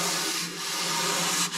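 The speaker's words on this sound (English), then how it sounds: "I'm just gonna knock that down with my sanding sponge so I have a little bit more of a smooth surface" A sanding sponge rubs over rough spots on painted wooden drawers of a china hutch, giving a steady close scratchy hiss with a couple of brief pauses.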